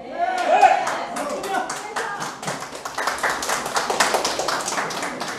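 An audience at a community meeting about the Gamman 1 redevelopment zone claps steadily for several seconds, crisp and fairly close, with a voice talking over the start.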